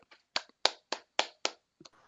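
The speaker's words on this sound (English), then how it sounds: "I'm just asking you to clap." Clapping at a live plant auction, about eight sharp, separate claps in an uneven rhythm, close and distinct with silence between.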